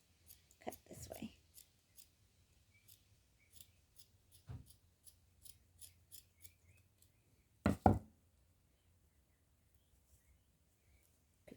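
Scissors snip through old sock fabric while making a voodoo doll, a scattered series of quiet, close cuts with one louder crunchy snip near the end; a voice speaks briefly between them.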